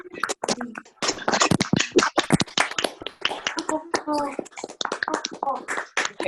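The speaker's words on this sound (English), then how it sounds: "if you all unmute, we could give her a little round of applause now" Online meeting participants unmute to applaud together, a scattered mix of claps, taps and snaps arriving from several home microphones, with some overlapping speech and uneven, patchy loudness throughout.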